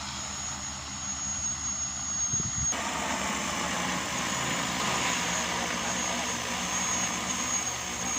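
Agricultural spraying drone flying over a rice field, a steady engine-like whirring drone that sustains throughout, fairly loud and constant with a brief low thump near the start.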